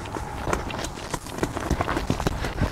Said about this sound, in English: She just wants to take off at a high lope all the way back over here to the gate.